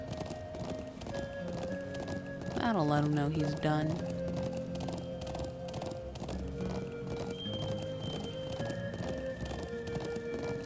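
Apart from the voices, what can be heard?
horses galloping, Trails of Cold Steel video game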